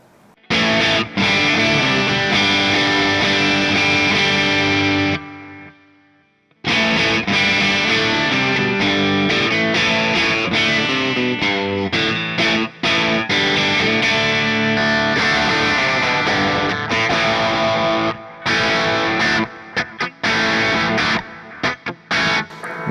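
An electric guitar played through a JOYO Jam Buddy II pedal with reverb and delay sounds loud and distorted. Sustained chords and riffs stop for a short gap, then resume and ring out with echoing tails.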